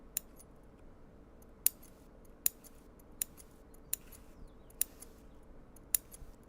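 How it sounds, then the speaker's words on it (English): Sharp sewing shears snip through fabric for an upcycled obi and kimono bag, giving about eight crisp, evenly spaced metallic cuts against a quiet background. "It looks funny that I'm using my shears."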